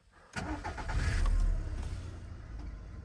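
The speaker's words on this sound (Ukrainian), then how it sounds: "тут машинка просить вижити щеплення перед тим, як її заводити" A 2012 Skoda Octavia with a 1.6 petrol engine cranks and fires up after a quiet moment, jumping to a strong revving burst before settling into a steady, softer idle close by.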